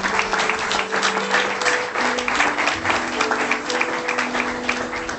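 A church congregation applauds the Lord with steady, sustained clapping, a dense rippling wash of many hands heard at a moderate distance, with no talking over it.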